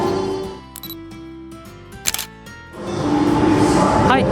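A single crisp camera shutter click sounds while photographing a night city street scene, set among a voice and sustained background tones.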